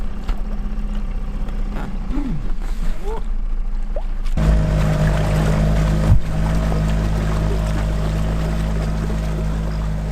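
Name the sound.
boat engine on river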